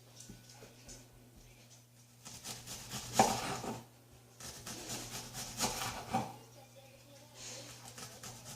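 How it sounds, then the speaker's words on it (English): A knife cuts up shallots for burgers served on romaine lettuce, giving two stretches of quiet rasping, scraping strokes against a board with softer pauses between them in a hushed kitchen. "next I'm gonna cut up the shallots"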